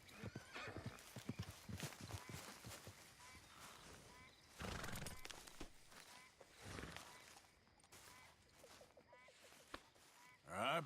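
A horse in Red Dead Redemption 2 whinnies and snorts amid hoof clip-clops and rustling, fairly close, with a louder neigh near the end.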